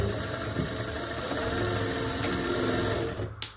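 A sewing machine runs continuously close by, stitching a half-inch seam on a one-year-old baby's frock with a steady fast whirr, ending in a small click.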